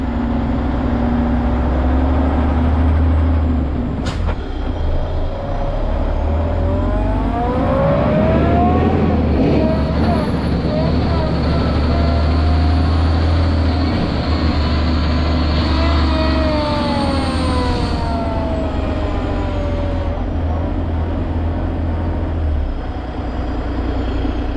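A tractor-trailer truck backs quickly down a highway exit during a winch-out recovery, its engine roaring loudly and steadily with rising and falling whining tones, close by throughout.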